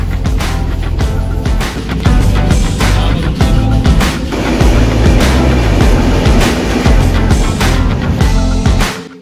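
A train pulls away from Katra railway station, its wheels clattering in a loud, steady rhythm with continuous rumbling and rail noise close by throughout.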